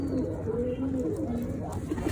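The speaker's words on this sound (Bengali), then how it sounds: "আমার খামারে এখন হচ্ছে কিছু বোম্বাই কবুতর আছে, তারপর ঝাঁক, তারপর কাগজি আছে, তারপর সাদা বোম্বাই আছে" Pigeons coo in low, throaty rolling calls at a village pigeon farm holding Bombay, Kagji and white Bombay breeds; the cooing carries steadily and fairly close throughout, with no talking.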